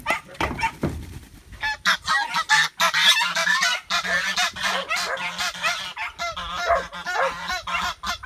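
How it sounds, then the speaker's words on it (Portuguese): Nervous geese honk loudly and close by in quick, irregular bursts, with harsh overlapping calls following one another throughout. "Os gansos estão nervosos."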